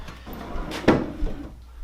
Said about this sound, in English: I'm going to push the drawer all the way in